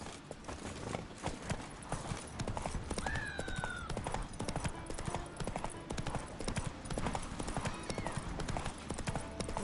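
Horse hooves clip-clopping steadily through the open world of the video game The Witcher 3, a busy rhythmic patter of hoofbeats with a brief whinny and game ambience around it.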